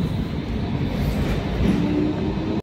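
A tram rolls along, giving a continuous loud rumble with faint rail squeals and a steady clatter, heard from inside and ending abruptly.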